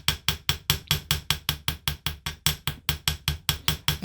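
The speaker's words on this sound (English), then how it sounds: "we're going to use the ball peen side of the chasing hammer. And all we're going to do is tap some little divots in the front of this" A ball peen chasing hammer taps small divots into metal on a bench block, about eighteen sharp, evenly spaced metallic strikes in steady rhythm, close and clear with no talk.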